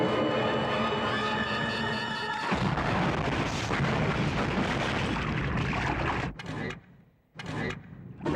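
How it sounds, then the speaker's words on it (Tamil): A gas cylinder blast blows apart a boat, a heavy booming roar that rumbles on for several seconds among tonal film music before cutting to abrupt, choppy bursts and near silence. "படகு வெடித்து சிதறி மரணம் அடைந்தார்கள்"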